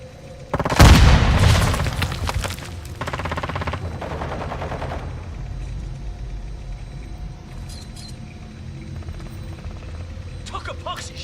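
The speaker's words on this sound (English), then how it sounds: "Throwing grenade!" A grenade goes off loud and close in Modern Warfare II, a heavy boom followed by rapid bursts of gunfire that fade into a softer background rumble, with other combat noise scattered throughout.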